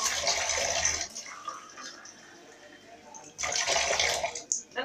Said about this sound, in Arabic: دابا غادي ناخذو شويه ديال الماء